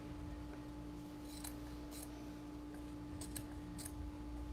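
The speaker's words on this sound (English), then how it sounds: "you're going to come on the inside and you're going to cut all that excess off" Scissors cutting excess microfiber cloth from the inside of a foam pumpkin frame: a few soft, quick snips come in small clusters over a steady low hum, faint and close.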